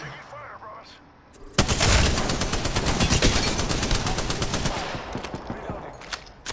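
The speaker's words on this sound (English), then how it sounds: "The enemies are shooting at me." Rapid automatic gunfire in Apex Legends erupts loud and close after a quiet lead-in, a sustained stream of sharp shots that thins into scattered pops toward the end, with a voice faintly under the opening.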